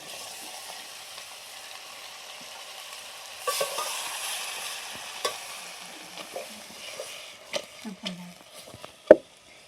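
Stuffed bitter gourds frying in a pan with whole spices, a faint low sizzle that turns busier midway with scattered clinks and scrapes of the pan, near and fairly quiet, one sharp knock at the end.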